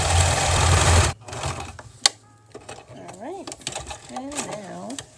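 Sewing machine stitching fabric panels for a homemade bucket hat, with a loud rapid burst of stitching that stops abruptly, followed by quiet handling clicks and a voice talking.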